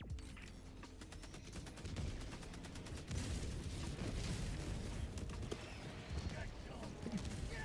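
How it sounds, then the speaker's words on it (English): An orbital barrage in Helldivers 2 pounds the battlefield with continuous rapid explosions and crackling gunfire, a dense rumbling din that barely lets up throughout. "Orbital barrage incoming."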